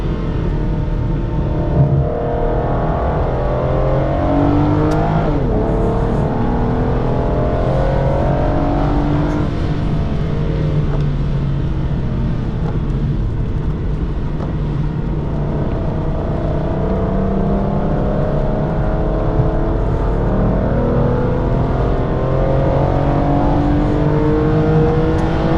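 An Aston Martin DB9 GT road car lapping a race circuit, its engine droning loud and close from the cabin, with repeated rising and falling revs through gear changes and corners.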